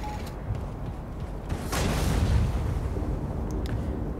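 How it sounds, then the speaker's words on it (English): Cannons firing in the video game Wolfenstein II: The New Colossus, a loud booming blast swelling midway through a dense, rumbling battle din, with faint sharper cracks after it and no talk. "These cannons shoot robots"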